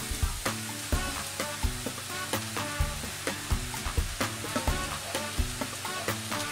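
Onion sizzles and fries in a pan over medium heat while a utensil stirs it, giving steady crackling with regular scraping taps up close, no talk.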